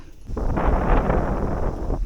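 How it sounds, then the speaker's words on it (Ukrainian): Strong wind buffets the microphone in a steady, roaring rush that swells and fades, with no voices, outdoors while carp fishing. "Знов здійнявся такий вітер"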